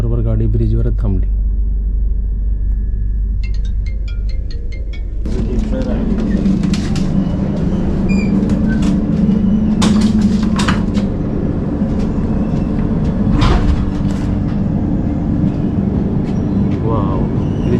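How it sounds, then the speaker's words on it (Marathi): The Mandavi Express rolls slowly across a bridge, a heavy low rumble with rhythmic clatter of wheels over rail joints, heard from inside a first-class coach; a brief tone and some close voices appear early, with people talking over it. "गाडी एकदम स्लो झालेली आहे."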